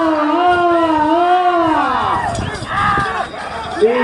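Spectators at a bullock pulling race, a four-tooth pair contest at Yaganti in Banaganapalli, Nandyal district, whistle and shout together, with long rising and falling whistles over a steady roar of crowd noise and cheering close by.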